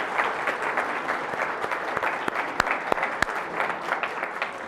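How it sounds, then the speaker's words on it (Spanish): Steady applause from a church congregation, a broad even wash of clapping with a few sharp individual claps standing out, sustained throughout. "Démosle un aplauso, por favor."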